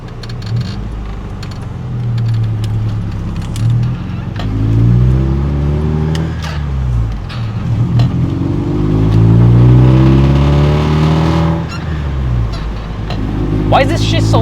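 A stick-shift car engine revs loudly and repeatedly, its pitch climbing and dropping through several sweeps, with a voice talking over it at times; the car is being checked for overheating and speedometer trouble.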